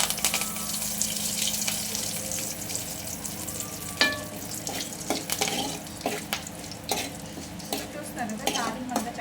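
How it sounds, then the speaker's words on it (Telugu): Curry leaves sizzle and crackle in hot oil as a tempering for curd chutney, a steady close frying hiss with scattered sharp pops throughout. "తాలింపు అంతా చక్కగా వచ్చేసింది"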